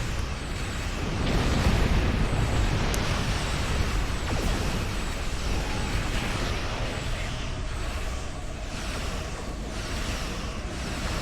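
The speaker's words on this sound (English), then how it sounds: "Yeah, I also like the explosions." Spaceship explosions from the video game Star Trek Online, a continuous loud roar of rumbling blasts with a few sharp bursts, dense and unbroken, with no talk.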